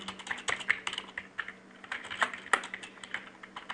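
Someone types rapidly on a computer keyboard, with close, crisp key clicks in quick irregular bursts and small pauses between them; no talking.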